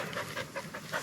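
A dog panting close by in quick, steady rhythmic breaths, about five pants in a second, fairly soft, with no talking.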